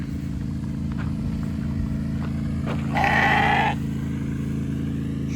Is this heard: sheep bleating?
yes